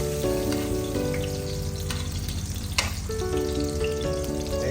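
Onions are half-cooked in a pan to stay crunchy for a beef liver steak, with a dense, continuous close sizzle and crackle, one sharp spatter near the middle, and no voices.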